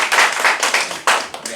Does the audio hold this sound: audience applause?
yes